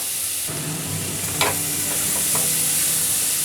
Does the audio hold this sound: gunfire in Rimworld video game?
no